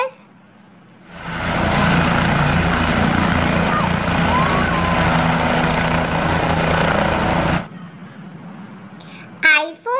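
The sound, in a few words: helicopter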